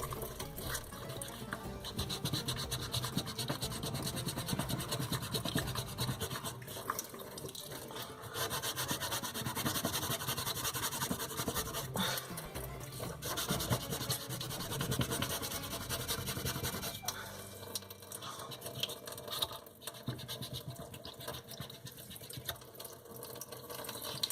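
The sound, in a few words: sanding a circuit board by hand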